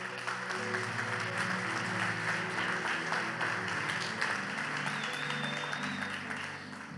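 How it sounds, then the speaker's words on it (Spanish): A church congregation applauds together at a Spanish-language worship service, a steady wash of clapping that holds for the full seven seconds while music plays low underneath. "Damos un fuerte aplauso."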